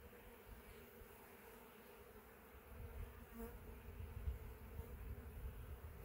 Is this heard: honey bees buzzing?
yes